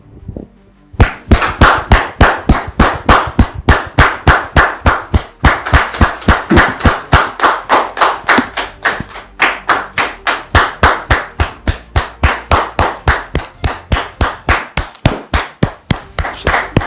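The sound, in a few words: audience applause welcoming a guest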